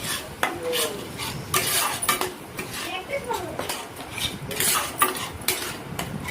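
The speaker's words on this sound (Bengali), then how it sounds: "কাজু পোস্তটা দিয়ে একটু ভালো করে নাড়াচাড়া করে নিলাম।" A spoon scrapes and stirs cashew poppy seed paste in a pan while cooking doi katla, with busy clinks and scraping strokes throughout and a faint sizzle underneath.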